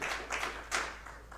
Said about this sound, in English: All right, by round of applause